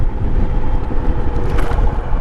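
A 2022 Royal Enfield Himalayan motorcycle cruises along an interstate highway, a loud, steady low engine drone mixed with rushing wind, continuous and close with no talking.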